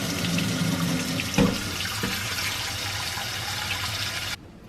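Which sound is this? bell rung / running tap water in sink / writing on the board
running tap water in sink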